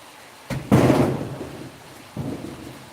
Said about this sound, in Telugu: వర్షం అయితే మనకు పడడం స్టార్ట్ అయింది